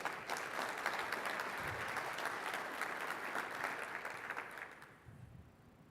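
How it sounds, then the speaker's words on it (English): Loud, sustained applause from a crowd, steady clapping that fades slightly near the end. "big applause to you"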